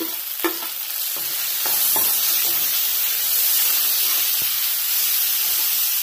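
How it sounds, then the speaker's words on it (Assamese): Tomatoes hit hot oil in a pan while bhindi aloo cooks, a loud, steady hissing sizzle with several utensil clinks over the first two seconds, then an unbroken sputtering fry. "মই এতিয়া বিলাহীখিনি দি দিওঁ"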